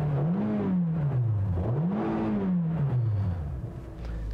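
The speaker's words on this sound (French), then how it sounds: "on l'entend bien entendu quand on accélère avec le véhicule" The 2016 Scion iM's engine revs up and back down twice in smooth, rising and falling sweeps, a rather high-pitched whirring drone heard from inside at steady loudness, with no talking.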